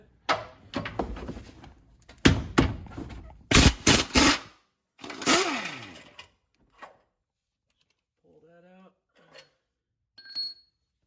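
A power tool removes the frame bolts of a motor mount on a GMC Envoy, giving several short, loud, buzzing bursts close by, followed by quiet stretches with faint clicks and a brief tonal chirp.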